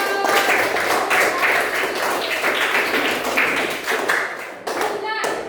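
Classmates clap for a pupil named Puput in a school classroom, a dense burst of many hands lasting several seconds with scattered louder taps and voices mixed in.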